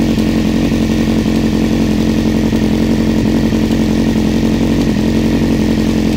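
A Honda CBR900RR Fireblade motorcycle engine runs steadily nearby, a loud, even buzzing rasp that holds constant throughout without pauses or revving, no voices.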